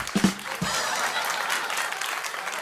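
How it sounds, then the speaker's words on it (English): A studio crowd on a live show breaks into delayed applause, a steady wash of clapping that follows a couple of brief sounds at the start and carries on at moderate volume. "Delayed reaction from the crowd."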